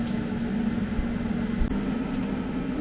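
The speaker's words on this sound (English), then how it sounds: "I'm going to press start. 10 minutes, 180, air fry." A Ninja Dual air fryer set to air fry at 180 degrees gives off a steady, moderately quiet fan whir with a low tonal hum, running unbroken and with no one talking.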